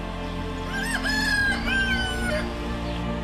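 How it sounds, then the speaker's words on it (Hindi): A rooster crows once in a rural village setting, a long rising and held cock-a-doodle-doo call that stands out clearly over a steady background hum, with no talk. "मुर्गे की उम्मीदों वाले बांग से होती है।"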